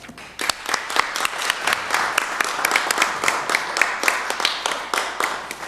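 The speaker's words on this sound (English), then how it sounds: "Let's have a round of applause." Applause fills a city council meeting chamber, a dense run of many hands clapping steadily at moderate loudness, the sharp individual claps audible throughout without talk.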